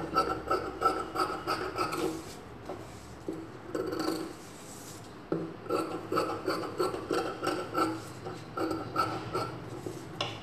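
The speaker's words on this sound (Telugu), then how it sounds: "ఇప్పుడు ఎక్స్ట్రా ఉన్న క్లాత్ని కట్ చేసుకోవాలి." Scissors snip through extra cloth while sleeves are being cut, giving a steady run of close, rhythmic rasping cuts that pause briefly midway before resuming.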